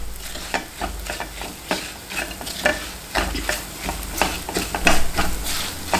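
Fenugreek and asafoetida sizzling in hot oil in a pan, a loud continuous crackling fry with frequent stirring scrapes and clinks, close up and alone without talk.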